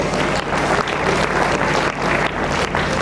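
Steady, dense applause from an audience filling a hall at a school foundation day and grandparents day celebration, loud and continuous throughout.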